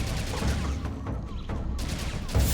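Rapid automatic gunfire while fighting an Uzi-wielding enemy in the video game Serious Sam 2, sustained bursts of shots with brief crashing peaks, loud and close.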